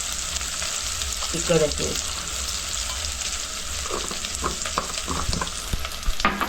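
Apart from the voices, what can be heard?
Malvani masala frying and being stirred in pan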